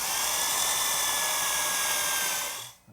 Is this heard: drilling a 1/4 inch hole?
yes